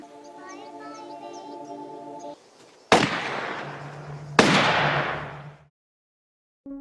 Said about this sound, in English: As Andy left, he heard gunshots behind him